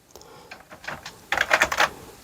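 Keys clack on an early Atari ST STFM computer keyboard in worn condition, a few scattered presses at first, then a quick, louder burst of rapid typing, close-up with no voices.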